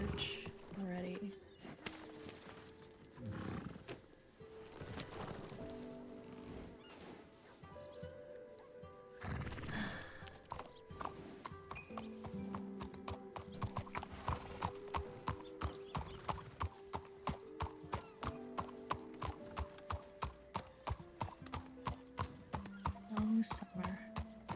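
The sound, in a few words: horses in a ranch roleplay video game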